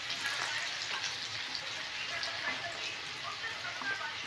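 Bhaji fritters dropped one by one into hot oil, a continuous bright sizzle and crackle of frying at moderate distance, steady throughout with small bursts as pieces enter.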